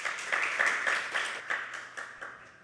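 An audience claps together after being asked to applaud for a dance at a Korean Christian broadcast show, a steady round of close applause that gradually fades over a few seconds.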